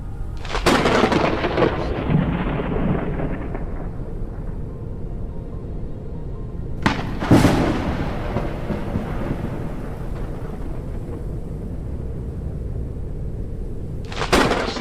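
A thunderstorm rolls through the video game Forever Skies, three sharp thunder cracks each trailing into a long rumble, over a steady hiss of rain.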